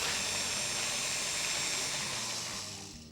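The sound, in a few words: blender mixing tomato sauce with canned pimientos and cream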